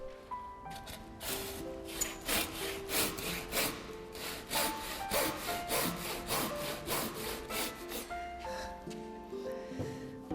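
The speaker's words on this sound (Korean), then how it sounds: "주심돌이가 앉을 부분을 톱질과 끌질로 따낸다." Rhythmic hand sawing through wood, with rapid back-and-forth rasping strokes, as a traditional master carpenter cuts out the seat for a foundation stone in a timber bracket; close, steady, with no talk.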